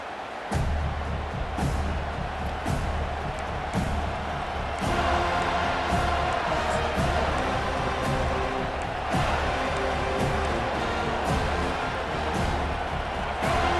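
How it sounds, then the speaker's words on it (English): A large stadium crowd in the video game EA Sports College Football 25 roars steadily throughout, with swells of cheering and occasional thumps, loud and continuous with no clear speech. "This crowd bringing the energy and noise early."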